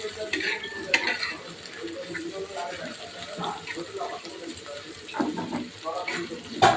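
Onion fritters fry and are stirred in a wok, a crackling sizzle with scraping stirs under conversation.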